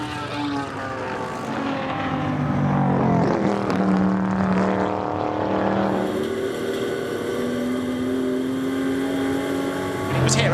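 Racing car engines at the Goodwood circuit, a Chevrolet among them, roaring and shifting pitch as cars pass, with a commentator speaking over the loud, continuous noise.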